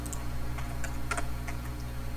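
Steady, brisk typing on a computer keyboard while fixing code, clicking keystrokes in irregular clusters over a constant low electrical hum, close and moderately loud with no voice.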